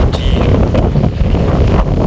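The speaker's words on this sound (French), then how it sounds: "une petite vidéo pour te montrer la Bretagne avec son vent frais" Fresh wind blowing hard across a microphone outdoors in Brittany, a steady loud rumbling buffet that fills the whole stretch with gusty roar and no voices.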